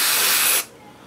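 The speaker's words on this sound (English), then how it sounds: "So I'm just gonna spray my hand." Sally Hansen Airbrush Legs aerosol sprayed onto a hand, one loud close hissing burst lasting just over half a second before cutting off abruptly.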